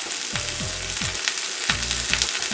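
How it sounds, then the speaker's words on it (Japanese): Turnip and turnip leaves with wasabi greens stems stir-fry in a little olive oil, a close steady sizzle with several rhythmic scraping stirs of the pan. "カブラの、葉っぱと、カブラを少しオリーブ油で炒めます"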